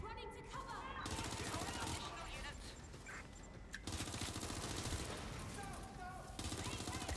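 Gunfire from Watch Dogs: Legion, rapid bursts and sustained automatic fire loud throughout, layered with game music and effects, while a player talks over it.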